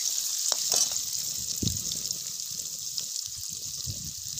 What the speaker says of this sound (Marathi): जिरे आणि लसूण आपण तेलामध्ये टाकून घेतला आहे भाजी बनवण्यासाठी